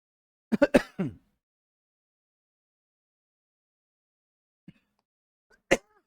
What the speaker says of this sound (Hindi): खांसी रुकने का नाम नहीं ले रही, क्या हो गया?